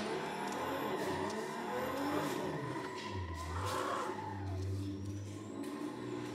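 Racing video game car engine droning steadily with revving surges and some tire skid, loud and continuous throughout, no talking.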